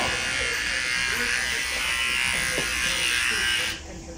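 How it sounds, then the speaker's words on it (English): Electric trimmer buzzing steadily as it clips a six-week-old puppy's fur, a continuous close hum that cuts off sharply near the end. "A trimmer."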